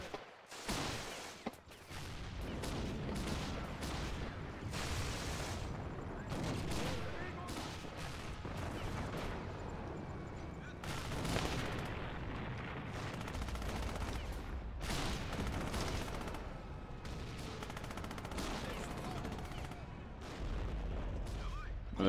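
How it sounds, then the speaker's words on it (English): Gunfire rings out across a Real Warfare battlefield, with an anti-tank rifle among steady, overlapping bursts and shots that persist from start to finish, loud and dense, while a voice talks over parts of it. "They're firing an anti-tank rifle at us."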